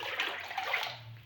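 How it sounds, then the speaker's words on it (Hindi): A jug of water poured into a washing machine: a brief, faint splashing gush heard alone, fading out at the end. "ये मैं डाल दे एक वॉशिंग मशीन में पानी"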